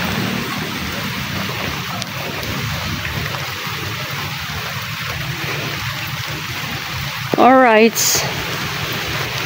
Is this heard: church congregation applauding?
no